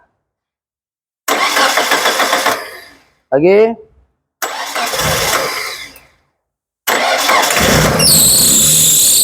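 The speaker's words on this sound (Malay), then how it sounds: "Oke, kereta sudah dihidupkan." A 1.5-litre Proton Wira MMC is cranked and started several times, each attempt a loud close whirring crank before the engine catches and idles with a belt squeal, punctuated by a brief spoken word between attempts.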